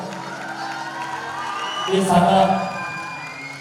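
At a singer's grand-finale concert in Los Angeles, the audience sends up cheers and clapping that swell briefly to a peak. A voice speaks over the crowd throughout.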